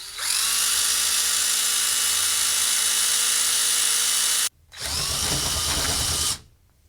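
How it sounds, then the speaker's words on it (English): A power drill with a spade bit whines steadily at high speed for several seconds, pauses briefly, then bites into the edge of a steel door with a rougher, lower grinding tone. "using the spade bit, we line up the tip of the spade bit with the mark we've made and begin drilling"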